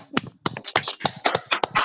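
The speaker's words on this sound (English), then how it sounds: "Let's give them a well done clap" Sharp, close claps from a small group in a quiet room, coming in uneven bursts of several hits at a time after a school debate forum.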